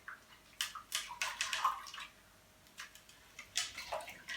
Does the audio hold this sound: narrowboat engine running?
no